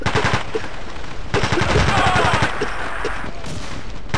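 Sustained, loud automatic gunfire in Battlefield 2, with rapid rattling bursts from more than one weapon and a short pause between volleys.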